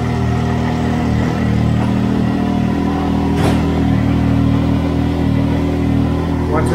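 Can-Am Maverick X3 on the stock exhaust, engine holding a loud, steady rumble with slight rises in pitch, a brief sharp noise partway through.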